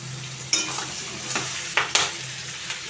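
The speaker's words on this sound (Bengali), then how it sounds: "এবার আমি আলু দিয়ে দেবো।" Potatoes tipped into a hot pan of chicken skin curry with tomato and fried rice spice mix, a steady sizzle broken by a few sharp scraping stirs and knocks of a utensil against the pan, close up and without voices.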